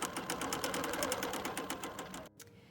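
A Bernina Q Series sewing machine runs a quick series of small stitches, a rapid, even mechanical chatter close up that stops abruptly near the end.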